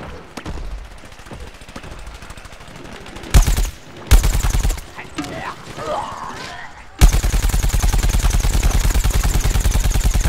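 Gunfire in the video game Plants vs. Zombies: Garden Warfare: short bursts of shots, a brief voice, then a long, loud, rapid stream of automatic fire that runs to the end.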